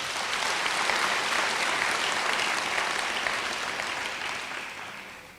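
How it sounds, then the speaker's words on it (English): Sustained audience applause for Thabo Mbeki at his inauguration as UNISA chancellor, a full dense crowd clapping steadily before tapering off at the end. "May we give him a round of applause."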